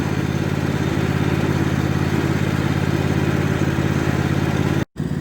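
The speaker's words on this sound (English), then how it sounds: "While the tractor's just ticking over there" A tractor engine idling at a cabin, a steady loud low throb with even mechanical clatter running continuously and unchanged, broken only by a momentary dropout near the end, with no voices over it.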